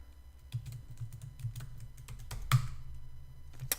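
Password keystrokes tapped out on a computer keyboard while logging into a remote server, a steady run of close, crisp clicks with a sharper key strike midway.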